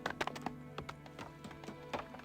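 Horse hooves clip-clop in soft, irregular taps within the Farthest Frontier village-building game, moderately near over a steady tonal game-music bed.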